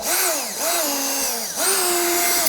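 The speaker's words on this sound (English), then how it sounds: "So I have my drill here, and I'm just going to drill it in." A power drill bores drain holes in a plastic plant container, with three rising whirring bursts that dip in pitch as the bit bites, close up and loud with no talking.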